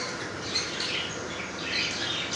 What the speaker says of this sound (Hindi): हमारे ऑस्ट्रेलियन तोते।